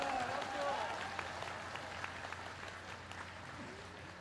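A crowd applauding after a farewell speech by a former South Korean president, a broad wash of clapping that starts full and slowly thins, heard somewhat distant while a voice talks at the start.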